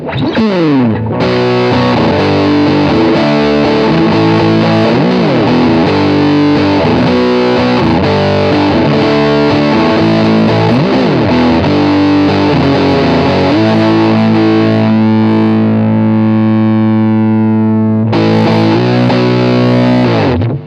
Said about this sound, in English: So I've got a Russian Big Muff here.